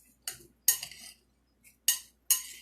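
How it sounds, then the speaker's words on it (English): Utensil clinking against a bowl while mixing salt, pepper and garlic seasoning, four or five short, bright taps in quick separated bursts, close and fairly quiet. "And then I'm going to mix that all up together."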